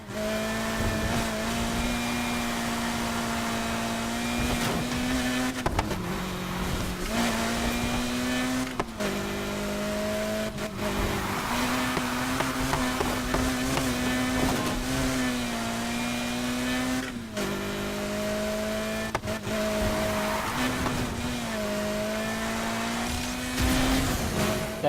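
A race car engine in the Need for Speed Heat video game drones loudly and steadily while drifting, rising and falling in pitch with gear changes, with tire squeal woven through it.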